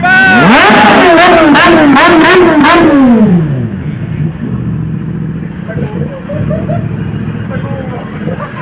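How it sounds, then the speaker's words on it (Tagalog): A new motorcycle engine revs hard close by in repeated rising bursts, then settles into a lower idle rumble while people talk over it. "Ang ganda ng bagong motor mo sir."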